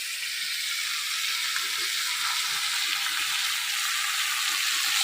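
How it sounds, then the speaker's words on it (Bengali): Potato and eggplant pieces fry in hot oil with chili and onion added, a steady, dense sizzle that holds at an even loudness throughout, with faint stirring underneath. "আলু আর বেগুন হাফ ভাজা হয়ে গেছে, এবারে যে লঙ্কা আর পেঁয়াজ দিয়ে দেবো"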